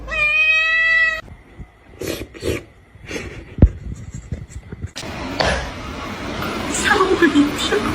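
A cat gives a clear, harmonic meow at the start, close and loud, followed by scattered thumps, indistinct voices and room bustle.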